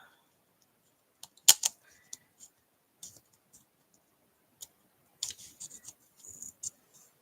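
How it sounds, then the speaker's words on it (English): Cheap scissors cut paper card for a handmade Christmas card, giving scattered sharp snips and clicks spaced irregularly across quiet pauses, close by and with no talking. "And I use crappy scissors for these."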